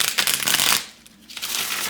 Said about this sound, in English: I think I already shuffled this 3 times, but I'll do it again.